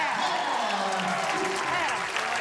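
Bowling crowd at a mixed doubles championship applauding and cheering for pro bowler Norm Duke, a loud, sustained wash of clapping with a voice speaking over it throughout.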